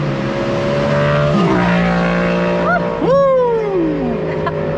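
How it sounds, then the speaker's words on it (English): A loud motorcycle roars past close by, its engine pitch rising and then sweeping sharply downward as it speeds away, over constant engine and crowd noise. "here comes the motorcycle"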